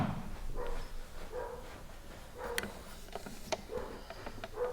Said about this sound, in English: Sorry about the stupid dog next door